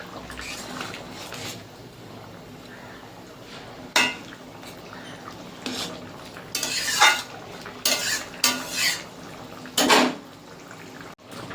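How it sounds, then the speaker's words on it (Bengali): Fried snakehead fish pieces dropped into a boiling curry of ridge gourd and potato in a pot, heard as a low bubbling simmer broken by several loud clattering clunks and stirring scrapes. "ঝোল ফুটে গেছে, ভেজে রাখা মাছগুলো এবার দিয়ে দেবো।"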